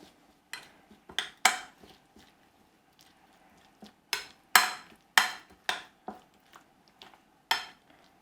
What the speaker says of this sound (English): We shall now mix this up.